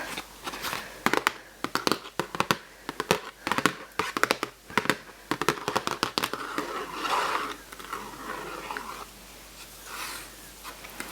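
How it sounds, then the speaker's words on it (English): Close-up handling of stiff glossy card: rapid crackly taps, flexing and rustling, dense at first and then easing into softer scraping. "this is a pretty thick piece of card. Again, glossy, makes great sounds."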